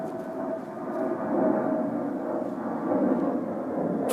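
A Delta airliner passes overhead, giving a steady, broad rumbling roar that swells slightly and holds for several seconds with no one talking.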